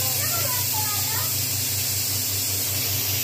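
Puris frying in hot oil give a steady, close, broadband sizzle and hiss that keeps going without a break for the whole stretch.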